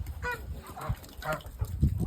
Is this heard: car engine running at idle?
no